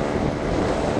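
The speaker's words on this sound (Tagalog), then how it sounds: "Nakakabugbog yung hangin." Loud, roaring wind rushes steadily against the microphone on the road at Kaybiang Tunnel, a dense continuous buffeting with no voices.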